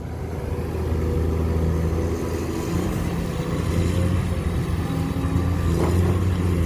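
A Komatsu PC210-10 excavator with a 1.2-cubic-metre bucket idles nearby: a loud, steady low diesel rumble with a gentle rise in revs partway through, alone without talk.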